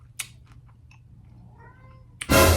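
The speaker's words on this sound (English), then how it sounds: "my cat gotta stop meowing" A cat gives a short meow in a quiet room, preceded by a few small clicks and followed by a sudden burst of noise.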